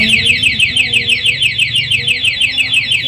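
A loud two-way motorcycle anti-theft alarm warbles in a fast, repeating siren pattern, each chirp sweeping in rapid succession without pause, close by.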